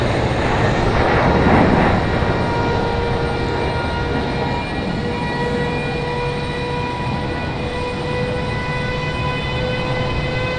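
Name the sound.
C-17 military transport aircraft at Raleigh-Durham airport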